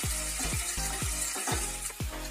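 Vegetables frying with ginger paste in a pan, loud continuous sizzle broken by a regular series of scraping stirs about every half second, close up with no talking.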